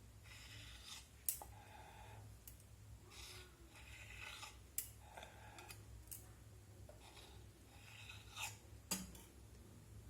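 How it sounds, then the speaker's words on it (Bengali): A knife cutting rolled nimki dough, faint scattered taps and clicks of the blade against the board in an irregular rhythm, with soft scraping between. "এখন একটা ছুরির সাহায্যে আমি নিমকিগুলো কেটে নেব।"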